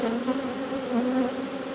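Honeybees buzz in a dense, steady drone while a hive is split. The sound is close and continuous, with no voices over it.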